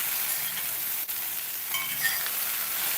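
Steady crackling sizzle of okra frying in a hot pan, continuous and close, with a faint clink partway through.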